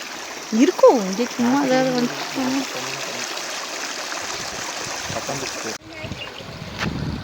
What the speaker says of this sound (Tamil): சின்னதாக குட்டியாக ஒரு ஆறு ஆறாக ஓடையா இது தண்ணி சுத்தமான தண்ணி ஓடுது